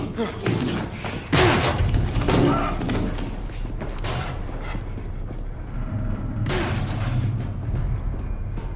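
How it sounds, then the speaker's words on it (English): A door breached in Battlefield 4, a heavy slam and thud bursting out early, followed by rumbling impacts and gunfire-like booms, with shouting voices over the action. "Breach the door!"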